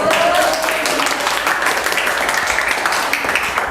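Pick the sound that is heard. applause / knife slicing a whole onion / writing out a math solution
applause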